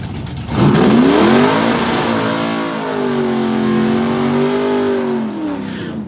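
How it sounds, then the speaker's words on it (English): A Chevrolet Bel Air and a Camaro launch side by side at Woodburn Dragstrip. A sudden loud engine blast opens the run, then the revs rise and fall through the gears in a sustained, wavering roar before easing off at the end. "1550 for the Bel Air on the left, 1489 for the Camaro on the right."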